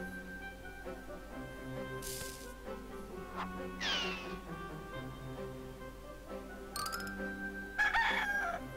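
A cartoon rooster in the PC adventure game Discworld II crows and squawks in short bursts over a soft musical background, with a few bright sound effects mixed in.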